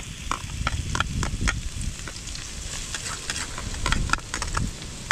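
Garlic and ginger frying in a hot pan, a steady close sizzle with brief stirring scrapes and clicks scattered throughout.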